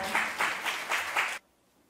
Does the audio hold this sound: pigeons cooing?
no